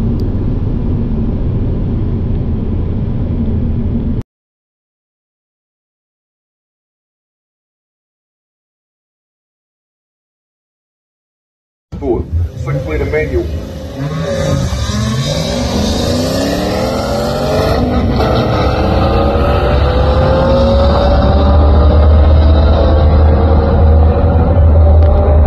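Ferrari 360 Modena at a drag racing meet in Oamaru, a loud engine roar that builds and rises in pitch through the gears after a silent gap, sustained and strong to the end.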